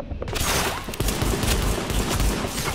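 Sustained gunfire in The Division video game, a dense, loud barrage of rapid shots and booming impacts filling the whole moment without pause.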